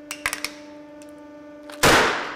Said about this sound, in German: weil der Reifen explodet ist. Das knallt auch.